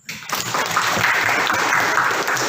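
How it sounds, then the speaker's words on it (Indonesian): A school class applauds the other group after a presentation, a sustained burst of many hands clapping that starts abruptly and holds steady at moderate loudness. "kita kasih tepuk tangan untuk kelompok yang lain tadi"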